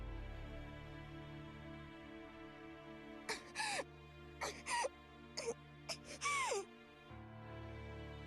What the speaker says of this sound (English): She coughs.